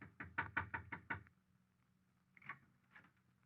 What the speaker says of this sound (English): I knocked on the door.